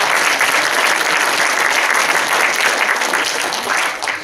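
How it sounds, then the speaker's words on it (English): An audience at a live retro gaming show claps loudly, dense steady applause that fades slightly at the end. "A round of applause for those guys."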